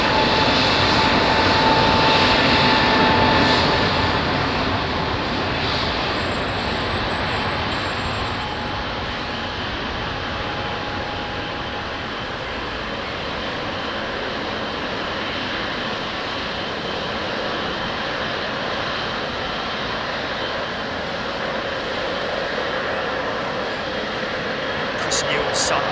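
A Qantas Airbus A380 rolls along the taxiway with a little engine power, a steady broad roar at moderate distance, swelling slightly at first and then holding, with a few voices faintly in the background.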